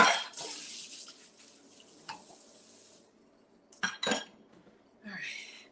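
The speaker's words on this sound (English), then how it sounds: "Let me rinse this out." A dish is rinsed under a running kitchen tap, with a burst of water and clinking of dishware and cutlery up close, then short splashes and clatters after a quiet pause.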